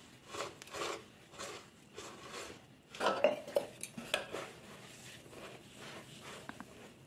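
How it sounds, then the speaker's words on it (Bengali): Sawdust and water are mixed by hand in a metal cooking pot, giving repeated soft rubbing and scraping strokes with sharper metallic clinks in the middle, close and fairly quiet with no talking. "জল দিয়ে ভালো করে কাঠের গুঁড়াটা মেখে নেব।"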